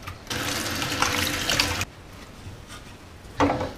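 Tap water runs loudly for about a second and a half while a plastic ashtray holder from an MK4 Jetta interior is rinsed out, then stops and leaves quiet room noise before a short splash returns near the end.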